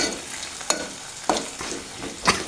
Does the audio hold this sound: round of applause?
no